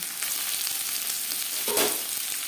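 Chopped onion hits hot mustard oil for a potato chicken curry and sizzles loudly and steadily, with a brief surge of crackling partway through and no voices.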